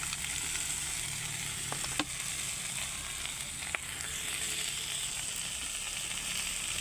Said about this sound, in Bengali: এখন আমি দিয়ে দেবো ভেজে রাখা বড়ি।